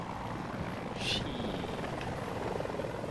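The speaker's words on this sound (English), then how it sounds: "Chopper." A helicopter in the Battlefield 2042 shooter game thrums steadily through a dense wash of battle noise, its rotor drone blended into the continuous low rumble.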